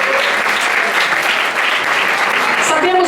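Congregation in a Portuguese-language church service applauding, a loud, dense, continuous patter of clapping throughout, with a voice briefly heard near the end.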